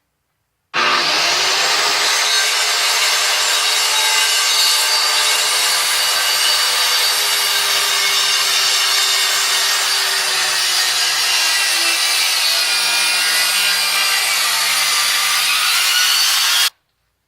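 A power saw cuts steadily through a wooden guitar body blank, producing one loud, continuous rasping whine that starts abruptly, holds for about sixteen seconds and then stops sharply, with no voices.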